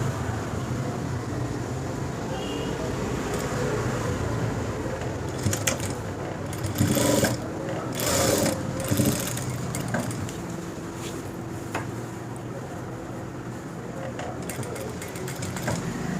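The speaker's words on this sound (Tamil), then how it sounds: "இந்த பிசுறு பக்கத்தை ஓவர்லாக் அடிச்சுக்கோங்க" An overlock sewing machine stitches the frayed edge of a school uniform coat, a steady close mechanical whir running throughout with a few louder, busier bursts in the middle.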